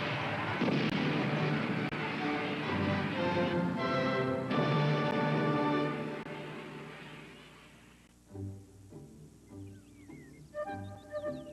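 Fireworks rockets burst in the sky in a long, dense run of rumbling booms and crackles at a festive royal celebration, later giving way to sparser pops mixed with tonal sounds.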